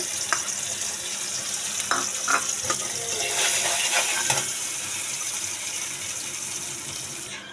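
Spices and handmade pasta sizzle and fry steadily in a pan, with a few light clinks and stirring scrapes over the constant hiss.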